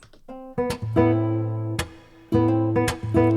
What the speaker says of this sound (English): We can hear the guitar with that lovely reverb on there.